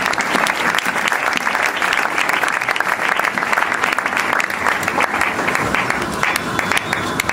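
A church congregation applauds together, dense sustained clapping at close to medium range that holds steady for several seconds, with a few voices mixed in.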